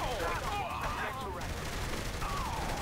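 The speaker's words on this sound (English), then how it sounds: "The shotgun does fucking work." Shotgun blasts in the Saints Row 3 Remastered video game, dense game gunfire and effects running continuously with a voice talking over parts of it.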